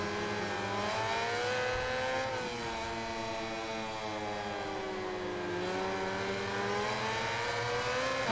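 A motorcycle engine in the MotoGP 21 racing game revs continuously, its pitch rising and falling through throttle changes, loud and close with no talk.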